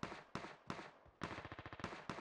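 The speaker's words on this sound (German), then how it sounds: "Ah, die Schüsse." Gunfire in the battle-royale game PUBG Mobile: a few spaced single shots followed by a rapid burst of about nine automatic rounds and two more sharp shots, loud and close with no talking.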